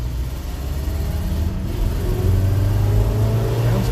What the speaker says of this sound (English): Revs up pretty good.